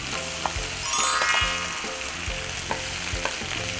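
Bitter melon being stir-fried with salted egg yolk and salted egg white in a wok, a steady close sizzle broken by repeated scraping and tossing clatters of the spatula.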